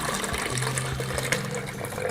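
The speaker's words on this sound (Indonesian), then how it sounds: "kita masukkan air kelapa semuanya" Coconut water pours steadily into a fertilizer mixture containing egg, a continuous liquid splash and trickle heard close up with no talking.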